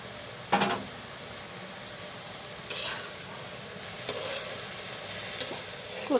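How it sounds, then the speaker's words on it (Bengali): Taro and local shrimp curry is stirred in a pan in quick scraping bursts, with a faint steady sizzle of frying between the strokes and no voices. "এখন আমি লাড়া দিলাম, এখন ঢেকে দিব।"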